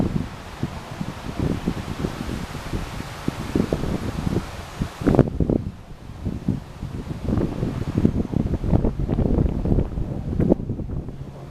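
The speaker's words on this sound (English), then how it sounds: "the wind is blowing" Strong wind blows outdoors and buffets the microphone in loud, rumbling gusts. Rustling bursts come and go throughout, with no talk.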